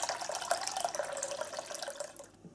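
Cool water pours steadily into a bowl around jam jars, a continuous close splashing trickle that stops abruptly at the end.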